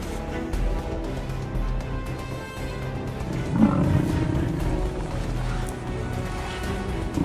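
A lion roars during a fight with a wild buffalo, a deep rumbling roar swelling midway over continuous low growling and scuffling, close and heavy.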